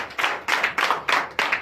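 A church congregation at a Sunday service in Comè, Benin, clapping in a steady rhythmic beat, about five bursts of claps, close and fairly loud.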